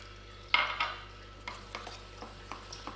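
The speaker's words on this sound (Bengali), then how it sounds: "অল্প অল্প করে জল দিয়ে এটাকে ভালো করে ব্যাটার বানিয়ে নেব।" A whisk beating gram flour batter for dhokla in a bowl, heard as a short run of quick, close tapping and swishing strokes, with a louder burst near the start and lighter, evenly spaced taps after it.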